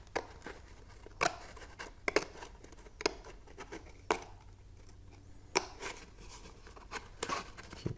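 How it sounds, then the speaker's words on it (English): Scissors make faint, repeated snips at a 45-degree angle while a homemade spectroscope is assembled. The crisp cuts come roughly once a second over a quiet background. "Now I'm going to cut from the other side, about that 45-degree angle."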